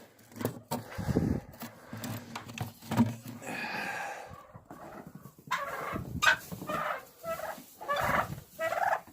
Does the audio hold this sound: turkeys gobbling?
yes